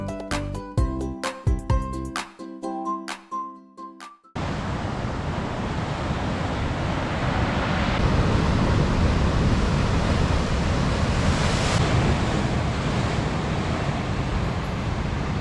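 North Atlantic surf rolling onto an Icelandic beach, a broad continuous wash of breaking waves and wind noise that swells slightly midway, preceded by a few seconds of sharp clicking and knocking before the roar begins.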